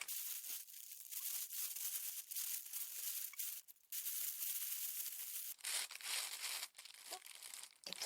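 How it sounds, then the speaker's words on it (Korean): A plastic bread bag crinkles and rustles as a mammoth bread loaf is packed into it, with bursts of crackling broken by short pauses. The sound is close and fairly quiet. "이 맘모스빵 포장은 식빵 봉투에 하시면 되는데요"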